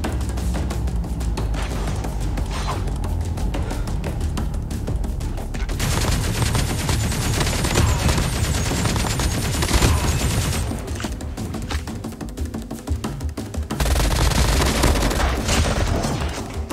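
Automatic gunfire in the mobile shooter Call of Duty Mobile: loud, dense bursts of rapid shots crowd much of the span, broken by short, quieter gaps between volleys.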